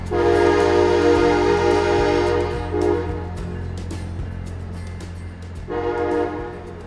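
An Amtrak train at a foggy station sounds a long, loud horn blast with several tones, pauses, then blows again, over a steady low engine rumble and rhythmic clunks of passing cars, with no talk.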